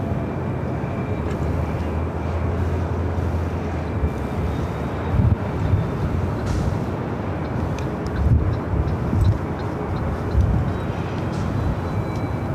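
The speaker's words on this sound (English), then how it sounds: "Southwest flight heading to Dallas Love Field. Southwest Airlines flight 2368 at 737 to max 8." A Southwest Airlines Boeing 737 MAX 8 departs from LAX for Dallas Love Field, its engine roar a steady broadband rumble with wind buffeting the microphone throughout.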